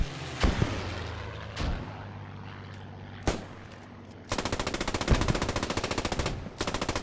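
Machine gun fire in a World War II strategy game battle at Stonne: a few loud single shots, then a long, rapid, close burst of automatic fire, with no talking.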